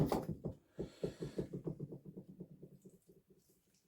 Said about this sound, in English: We'll just put a bit of our water back in there. Another little swill.